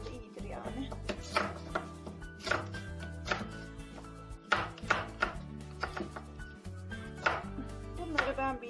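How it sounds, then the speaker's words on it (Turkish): A knife chops meat steadily on a cutting board, sharp irregular thuds in a quick repeating rhythm, close and clear with no talking. "Böyle doğrayacağım hepsini."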